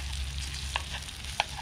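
Vorarlberger Riebel frying in butter in a pan and being broken up, cooked outdoors; a steady low sizzle with two brief scraping clicks from the pan.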